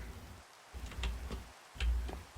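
Rain falling in the video game Minecraft, a soft, steady patter with a few brief clicks and taps layered on top, fairly quiet throughout.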